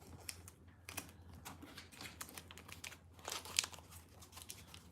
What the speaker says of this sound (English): I'll tape them together.